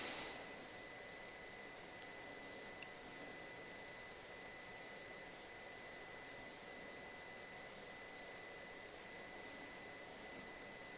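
An angle grinder runs continuously after its trigger is pulled while repairing rotted vehicle frame metal, a steady high whine with a sharp start that then holds at an even, moderate level with no voices.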